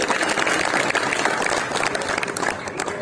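An audience at a poetry gathering in Nimbahera breaks into strong applause, thick continuous clapping throughout with faint voices underneath.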